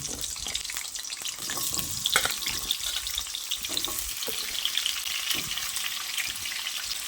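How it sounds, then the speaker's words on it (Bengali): Washed potato pieces frying in hot oil, a loud crackling sizzle that stays steady and busy throughout, with occasional light utensil knocks and no one talking. "এবার তেল গরম হয়ে এলে এই টুকরো করে ধুয়ে রাখা আলুগুলো দিয়ে দিচ্ছি"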